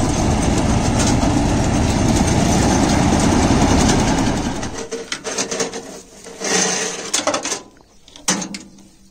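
A John Deere 5310 tractor-mounted corn harvester runs at full RPM with a loud, steady mechanical roar, then drops to a quieter, uneven rattling and clanking as the load changes.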